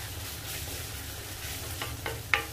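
Onions stirred as they fry gently in a pan for Kanthari chicken, a steady low sizzle with a few scraping spoon strokes near the end, the last one sharpest, close and moderately loud with no voices.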